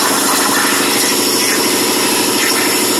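A Crossfire XR plasma table cuts a monogram from 16 gauge sheet metal, giving a loud, steady, close hiss with a droning buzz underneath that holds without a break.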